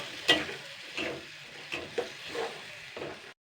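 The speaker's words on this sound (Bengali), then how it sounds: "এটাকে এবারে ভালো করে কিন্তু মশলাটাকে কষাতে হবে কিন্তু মিনিট 5 ধরে।" Spice paste sautéed in a pan, heard as soft, rhythmic spatula strokes about every half second over a faint, low sizzle, quiet and close.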